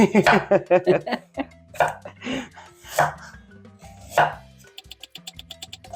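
A knife chops carrots finely on a cutting board in a home kitchen: rapid, crisp, close strikes in quick bursts, then a run of lighter, even taps at the end.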